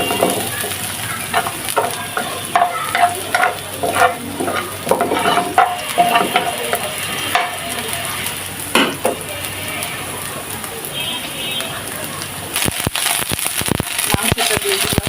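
Minced meat for momo filling sizzles loudly in a pan while a utensil stirs and scrapes through it continuously, with a person speaking over the cooking.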